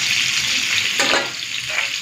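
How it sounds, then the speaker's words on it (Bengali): Cauliflower frying in a pan, a steady close hiss of sizzling oil that runs throughout, with a brief clatter as the pieces are moved about near the middle. "ফুলকপিটা লাল করে ভেজে নিয়েছি, তুলে নিই।"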